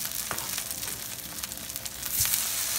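Steady crackling sizzle of scrapple frying in a hot pan, continuous and close, with a few louder pops and spatters and no voices.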